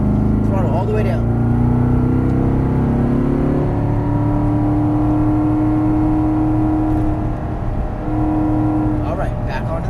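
Corvette Stingray engine at full throttle on a track, a loud, sustained whine that climbs steadily in pitch as the car accelerates, heard from inside the car with a driving coach talking over it.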